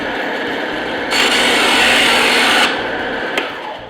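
A bandsaw hums steadily while foam is pushed along its fence for even-thickness cuts. The blade's hiss grows louder and brighter for a couple of seconds during the cut, then settles back.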